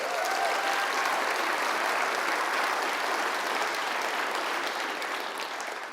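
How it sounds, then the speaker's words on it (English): A conference audience gives Helen, honoured with an MBE, another round of applause: an even, unbroken wash of many clapping hands that continues throughout and eases slightly at the close. "So can you give her another round of applause, please?"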